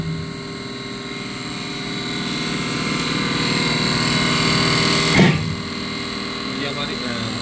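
A Bosch CP4.2 diesel high-pressure pump from a Tata BS6 engine runs on a test bench at 1200 rpm, giving a steady, loud, tonal mechanical whine and hum that continues throughout, with a brief clatter near the end and a voice talking over it.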